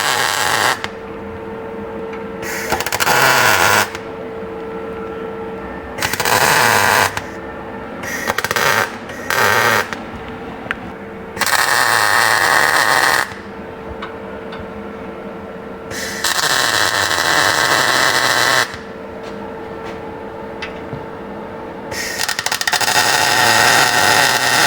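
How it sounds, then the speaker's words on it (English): Tack welding a stainless muffler section on an LS3 Nissan Patrol engine conversion, several separate bursts of harsh buzzing and crackling between quieter stretches of shop hum, close and loud, with no talking. "We're just going to put a tack each side and we'll take this section out."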